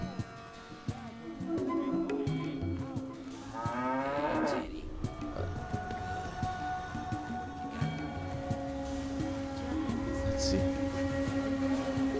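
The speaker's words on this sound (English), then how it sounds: "Looks like a cattle, but..." A cattle-like creature in the Fallout 3 video game lets out long, loud bellowing moos over a steady ambient game soundscape, with several drawn-out calls spread across the scene.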